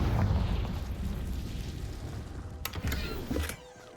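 A Confringo spell blast in the Hogwarts Legacy video game: a dense, loud rumbling burst dominating the opening, then settling into a roaring decay with a few sharp crackling bursts near the end before it drops away.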